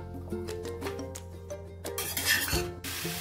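Vegetables for a Bengali pumpkin-leaf and prawn ghonto fry in a pan, with steady clinks and scrapes of a stirring utensil against the pan over a soft sizzle, close and moderately loud.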